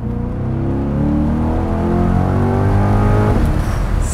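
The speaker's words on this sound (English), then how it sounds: "Chilling in drive, let me just floor it." A 2021 C8 Corvette Convertible accelerates at full throttle from drive. The engine roar climbs steadily in pitch and stays loud and close, then eases off near the end.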